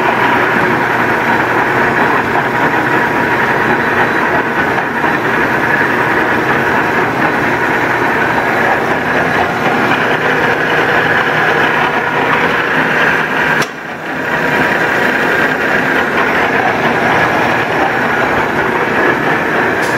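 A Union boring mill runs with a loud, continuous mechanical drone, which briefly dips and cuts out for a moment as the gear changes, then resumes at a steady level.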